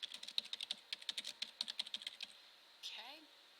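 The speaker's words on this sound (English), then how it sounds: "I'll just type the first one like you see in the book for number 15." Quick, uneven keystrokes on a computer keyboard while typing a job-search heading into a Word document, a steady run of close, light clicks that stops partway, followed by a brief faint whistle-like sweep.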